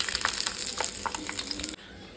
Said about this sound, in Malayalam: അതിനകത്തേക്ക് ഞാൻ കുറച്ച് 100 ഗ്രാം അണ്ടിപ്പരിപ്പ് ഇട്ട് പൊരിച്ചെടുക്കുകയാണ്